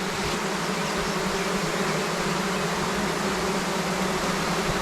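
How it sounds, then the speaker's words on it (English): A newly introduced colony of agitated honeybees buzzes in a loud, dense, unbroken roar right at the hive, with no voices over it. "This is one bunch of angry bees. Yeah, they don't sound happy."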